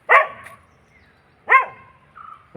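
A dog barks sharply a few times, two loud yelps a second apart followed by a softer whine and another bark, close by.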